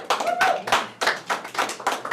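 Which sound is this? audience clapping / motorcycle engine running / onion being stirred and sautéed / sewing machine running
audience clapping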